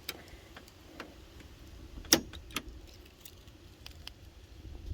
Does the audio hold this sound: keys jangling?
yes